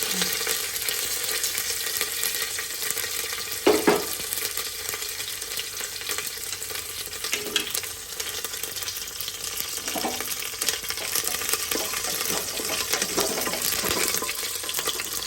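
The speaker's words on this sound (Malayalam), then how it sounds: "കടുക് പൊട്ടിക്കഴിഞ്ഞു. നമ്മൾ കരിവേപ്പില ഇടുകയാണ്." Curry leaves crackle and sizzle in hot oil after mustard seeds have popped, made for a Kerala-style egg curry. The frying hiss runs steady and dense, with a few sharper pops and a clink rising above it.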